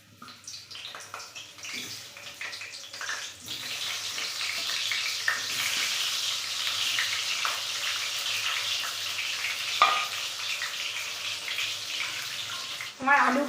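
Turmeric-coated cut potatoes fry in hot oil, giving a continuous close sizzle and crackle with occasional clinks of stirring.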